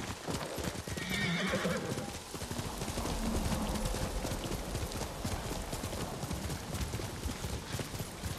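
Horse hooves clip-clopping at a gallop in the Ghost of Tsushima video game, with a clear neigh early on; the hoofbeats carry on steadily and fairly quietly beneath the game's ambient sound.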